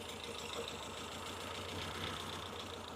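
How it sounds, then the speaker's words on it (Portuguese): A car engine idles roughly and unevenly because of a suspected burnt head gasket letting water into a cylinder. The close, continuous rumble carries a faint rhythmic wobble, with no voices. "quando a água pinga dentro do cilindro, o motor dá essa oscilada"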